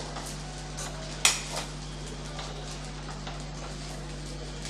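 A utensil scrapes and taps lightly against a pan while stirring vermicelli biryani on low heat, with one sharper clink, over a low steady hum of cooking in the background.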